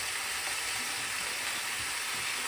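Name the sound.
bacon frying in a pan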